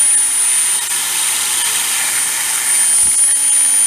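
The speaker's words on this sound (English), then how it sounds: "In my Dremel I have pink stones," A Dremel rotary tool fitted with grinding stones works a brass fitting, giving a steady, loud high-pitched whine that holds without a break.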